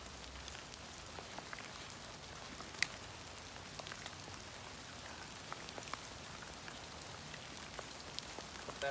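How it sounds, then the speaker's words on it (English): Rain falling steadily around an outdoor campfire site, a dense even patter of drops on surfaces with occasional louder taps, with a brief spoken remark near the start. "We're going to use this little guy to make sure that the rain doesn't put it out."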